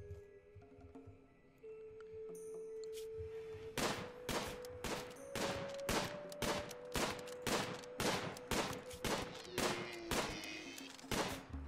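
Gunfire in the video game Rimworld rattles out as a long series of evenly spaced, punchy shots over a faint sustained tone, steady and moderately loud with no talking.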